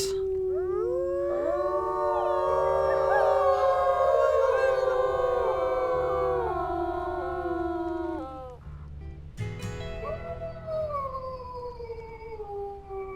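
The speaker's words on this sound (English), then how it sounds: "What is that howling?" Several wolves in the game WolfQuest howl together in long, rising and falling tones that overlap in chorus, loud and sustained, then a single wavering howl continues after a brief break.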